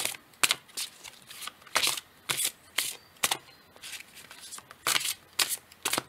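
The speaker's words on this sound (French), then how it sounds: "Et je vais tirer une carte." Tarot cards being shuffled and drawn, repeated crisp riffling bursts in an uneven rhythm, close and fairly loud, with no voice over them.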